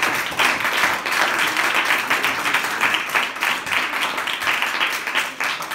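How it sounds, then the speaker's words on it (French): Audience applause for slam poetry performers at a slam stage in Tours, dense sustained clapping throughout, steady and fairly loud with no break. "Et on va leur faire un maximum d'applaudissements"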